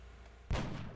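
A single heavy boom of gunfire from the XCOM: Enemy Unknown video game cuts in sharply midway and leaves a short rumbling tail.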